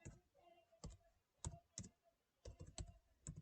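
Bursts of keyboard typing as a variable label is entered in SPSS statistics software, sharp clustered key clicks arriving in irregular groups, close and fairly quiet, with no voices.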